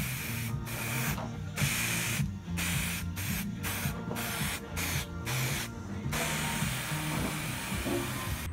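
Spray can laying primer undercoat onto bed brackets for a slide-out double bed in a VW Crafter camper, a loud continuous hiss in repeated bursts with brief pauses between passes, close up, with machinery-like rumble underneath.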